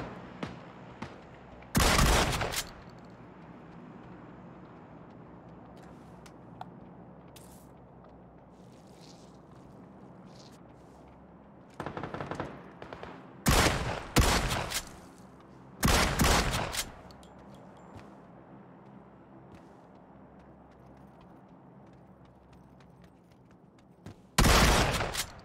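Gunfire in PUBG: several loud bursts of shots, one at the start, a cluster of three volleys midway and one near the end, set against a steady low background rumble.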